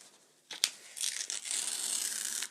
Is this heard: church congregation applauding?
no